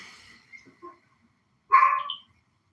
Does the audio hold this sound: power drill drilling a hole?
no